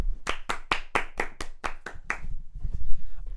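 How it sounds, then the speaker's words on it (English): A handful of sharp, evenly spaced hand claps from one or a few people, close and distinct, around eight claps before trailing into low background noise. "So a round of applause for Arteta"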